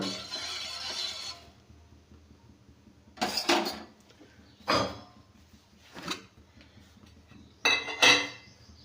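Spoon scraping and clinking against a metal pot while ragi porridge is stirred on a stove at home, a few sharp separate knocks and scrapes over a soft background hiss, with no talking.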